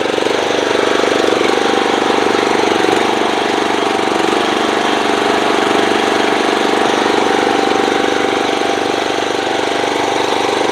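A John Deere D110 riding lawn mower, freshly serviced with a new fuel filter and air filter, idles loud and close with a steady, even drone that does not change for about ten seconds.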